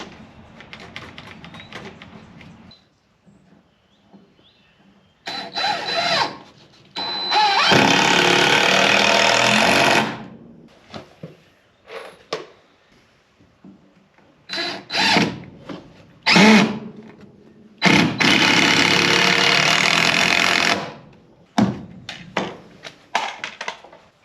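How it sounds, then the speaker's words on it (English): A Sawzall reciprocating saw cuts boards on a homestead in several loud, harsh bursts of a few seconds each, with quieter gaps of handling noise between the cuts. "I only brought my Sawzall, and that thing cuts like garbage"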